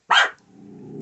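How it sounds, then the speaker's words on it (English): One sharp bark from a dog indoors, close and loud, trailing into a faint low rumble. "The wind blew, so she had to bark."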